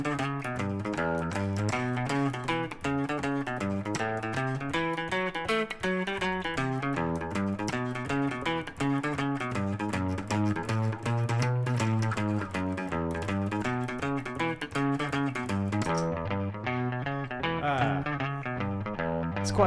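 A rockabilly guitar riff repeats in a looper, its layered distorted lines cycling continuously at a steady, loud level for nearly twenty seconds with no talking.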